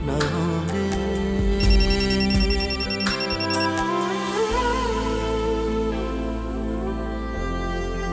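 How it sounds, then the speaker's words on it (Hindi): A mobile phone ringtone plays steadily throughout, a bright repeating melodic ring at moderate volume with no voices over it. "हाशिम का फोन"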